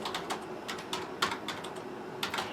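Computer keyboard typing during a timed typing test at a radio morning show, with bursts of quick, close key clicks in uneven clusters and short pauses between them.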